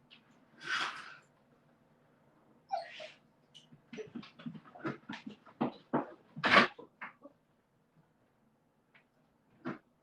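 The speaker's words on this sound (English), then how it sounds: "the dog wanted to just bark like nuts" A dog at home barks excitedly in a rapid, uneven string of close yaps, with breathy panting between bursts and a final lone bark after a pause.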